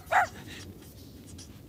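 An old, frail dog sick with a pus-filled belly lets out one short, high whimper close by, followed by faint quiet shuffling in a calm room.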